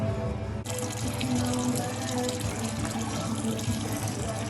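Coolant pours steadily out of a big block Chevelle engine, a continuous close gushing, splashing flow that starts abruptly and keeps going without a break.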